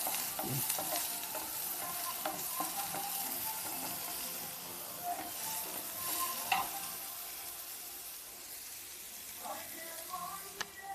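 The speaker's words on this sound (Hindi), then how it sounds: "अब इसको भी हम भून लेंगे" Onions sizzle steadily in a hot pan with garlic while a utensil scrapes and stirs with occasional clinks, close and moderately quiet.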